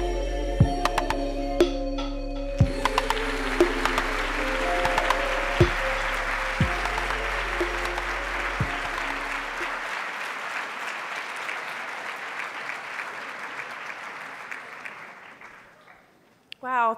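Audience applause at a live spoken-word event, sustained clapping from a crowd for about fifteen seconds over a fading musical chord, then dying away as a voice starts at the end.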